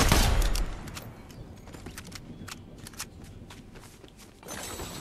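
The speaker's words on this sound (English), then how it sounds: "let's see how does the shotgun work." A shotgun fires in a video game, one loud blast at the start followed by quieter clicks, footsteps and mechanical in-game noises, then a rising rumble near the end.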